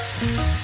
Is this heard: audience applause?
no